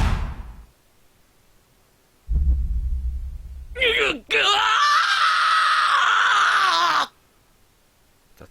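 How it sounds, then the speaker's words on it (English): Loud, drawn-out scream with a wavering pitch from the horror game Corpse Party: Book of Shadows, coming after a low rumbling drone and a sharp hit, then cutting off abruptly. "That was a well done scream."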